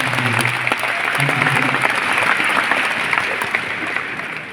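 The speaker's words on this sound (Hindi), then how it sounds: "एक बार तालियां मुझे सभी की लिए।" A seated audience in a hall at a youth program claps together in a sustained, even round of applause, fairly loud and close, with a faint voice or tone briefly underneath at the start.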